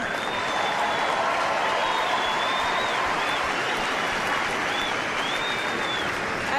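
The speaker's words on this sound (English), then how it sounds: "How about another round of applause for our 2 great players, Rafael Nadal and Roger Federer." A large crowd gives sustained applause after the Federer versus Nadal Miami Masters 2005 tennis final, a continuous dense roar of clapping, with a few faint high whistles cutting through.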